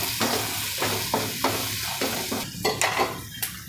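A spoon stirs spice mix through a cooking pan of sizzling soya chunks and corn, with rhythmic scraping strokes over a steady frying hiss, close by.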